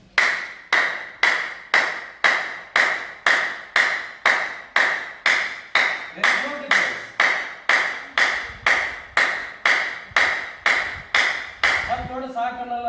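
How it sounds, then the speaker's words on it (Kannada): Audience claps for three children at a lecture program on building values in children, as one person's sharp, evenly spaced claps repeat about twenty times in a steady rhythm, then give way to a brief burst of mixed sound and voices at the end. "ಇವ್ರು 3 ಜನ ಮಕ್ಕಳು, ಅವ್ರಿಗೊಂದು ಜೋರ ಚಪ್ಪಾಳೆ ಕೊಡ್ರಿ"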